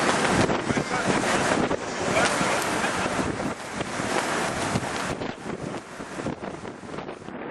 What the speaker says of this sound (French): Il fait du vent, hein?